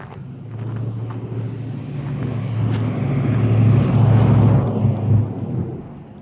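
A car drives past on a residential street, a broad low rumble that swells to its nearest point around the middle and then eases off, with wind-like noise across the microphone and no talking.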